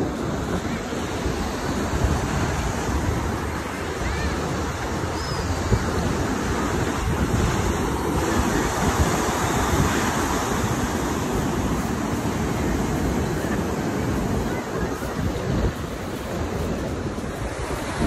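Ocean waves surge and break steadily at Rosarito beach, a continuous loud wash of surf with wind buffeting the microphone throughout.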